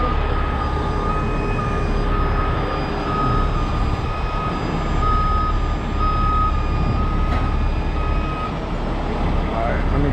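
A truck reversing on a rollover recovery job, its steady beeping backup alarm repeating over a loud continuous engine rumble, with other tonal beeps layered in.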